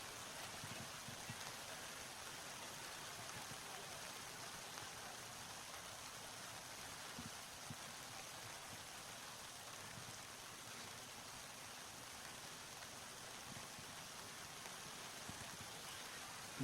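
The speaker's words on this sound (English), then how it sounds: "although it's still raining" Steady rain falls over an outdoor cross-country course at a Mount Hood Conference meet, a continuous even hiss with no break, heard alone with no voices.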